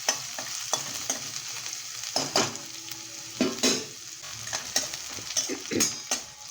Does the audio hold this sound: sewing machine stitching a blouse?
no